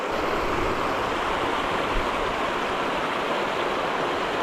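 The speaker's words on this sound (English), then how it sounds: "Take the little waterfall and check if there's anything here." A small waterfall in a mountain trout creek rushes steadily, producing a close, even roar of falling water with no breaks and no voices.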